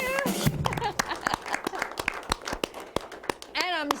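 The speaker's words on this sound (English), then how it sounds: "how about a round of applause?" Scattered claps from a small audience at a late-night show ring out briefly, mixed with a speaking voice and crowd noise, then trail into talk.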